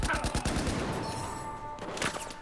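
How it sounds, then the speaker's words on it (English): Battlefield 4 gunfire: rapid bursts of close automatic shots crackle in quick succession at the start, then sparser shots follow over a noisy battlefield background. "Whoa, I'm being shot at."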